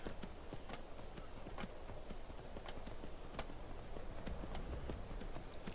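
A horse gallops in the video game Skyrim, a fast, steady clip-clop of hooves repeating evenly throughout, faint and without talk.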